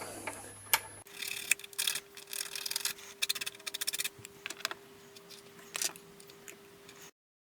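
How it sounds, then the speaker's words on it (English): A metal camera bracket for a V-Strom 1000 gets its burrs filed off in a workshop, with irregular rasping strokes in short bursts, close and fairly quiet, broken by small ticks and pauses. "just clean up these burrs a little bit"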